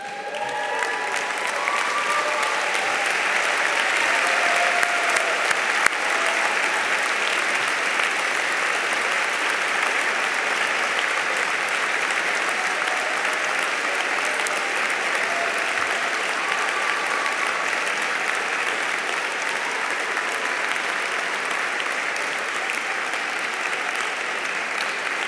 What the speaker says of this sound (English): turn around, and applaud these people who supported you